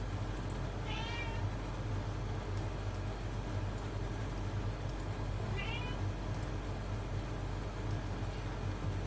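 A pet cat named Ajax meows twice, short rising calls a few seconds apart, faint over a constant low background hum, with no talking.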